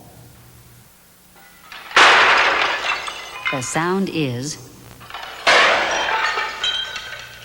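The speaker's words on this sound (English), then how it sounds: "tray crashing, dishes breaking" A tray crashes to the floor with dishes breaking, in two loud bursts of shattering crockery a few seconds apart, each trailing off into scattered clinks, with a brief voice-like tonal sound between them.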